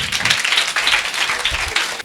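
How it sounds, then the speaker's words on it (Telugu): Children at a Vacation Bible School session in Kovvur clap together in a loud, brisk burst of applause that fills the room and holds steady for about two seconds. "క్లాప్స్ కొట్టండి మరి."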